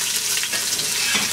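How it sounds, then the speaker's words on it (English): Onions browning in a pot for a braised beef short rib soup stock give a steady, close broadband sizzle with faint stirring, continuous and even throughout with no voices. "So you want to brown the onions, it's going to give the stock color and flavor."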